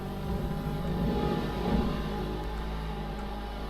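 Car engine roaring in the GTA 5 video game, a steady loud drone with a low rumble that swells slightly midway, heard alone with no talk.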